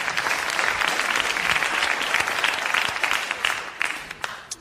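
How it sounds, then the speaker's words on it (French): A television studio audience claps together in sustained, dense applause at full volume, thinning slightly toward the end with a few scattered individual claps. "nous allons applaudir comme il le mérite monsieur Beauvarlet de Strasbourg"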